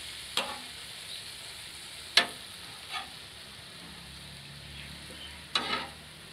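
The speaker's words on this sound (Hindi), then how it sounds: "अब इसको हिलाना है। घी तकरीबन आधा कप डालना है।" Chicken boti pieces stirred with ghee on a tawa, a quiet background sizzle broken by a few sharp scrapes and clinks of a spoon against the metal pan, no voices.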